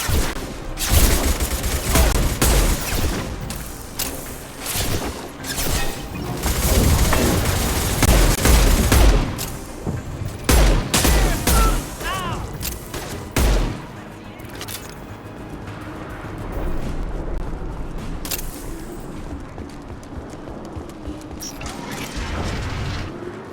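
Gunfire and mechanical weapon clatter from a firefight in the video game Mass Effect 2, with loud bursts in the first half that fade to a quieter background hum, mixed with game dialogue.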